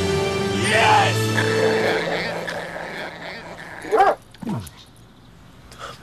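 A small dog yips and whimpers close by, its high wavering cries overlapping with talk and music early on, followed by two short sharp barks near the end.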